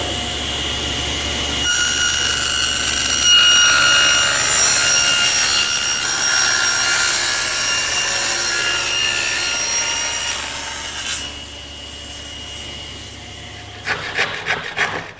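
Table saw cutting a tongue along the edge of a wooden panel for a bedside table, a loud steady whine with rasping blade contact that runs for about ten seconds, then winds down with rattling.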